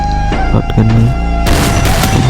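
Heavy shotgun blasts boom in a video game, loud and close, followed by a dense burst of gunfire in the second half with no talk.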